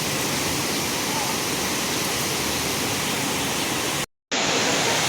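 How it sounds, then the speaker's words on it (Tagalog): Rain falling in Fung Tak Park, Wong Tai Sin, a dense uniform hiss of steady downpour that drops out briefly near the end before resuming. "Umuulan po ngayon."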